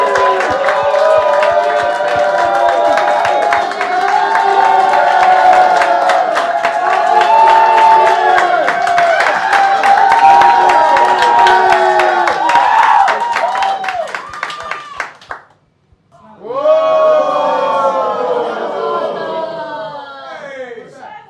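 A comedy club audience at a roast show breaks into loud cheering, whooping and sustained clapping that stops abruptly, then a second burst of applause and shouts follows close by.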